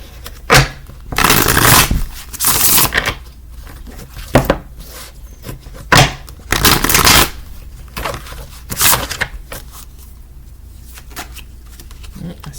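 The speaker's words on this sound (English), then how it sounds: "I just want to shuffle." Tarot cards being shuffled by hand, repeated riffling bursts of a second or so with quiet gaps between them, close and fairly loud, with occasional soft taps and handling noises.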